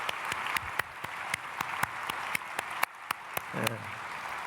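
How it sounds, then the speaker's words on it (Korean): A congregation applauds during a Sunday church service: steady, dense clapping fills the whole stretch, with a few sharper claps standing out and a brief voice near the end. "박수하겠습니다."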